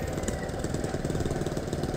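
Motorcycle engines putter on a quiet island road, a close, steady, slightly rhythmic knocking rumble throughout.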